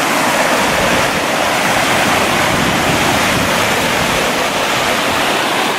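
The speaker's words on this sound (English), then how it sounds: "Quite the rapids and the falls there, huh?" Loud, steady roar of rapids and falls on the Kettle River in Banning State Park, a dense unbroken wash of rushing water filling the whole clip.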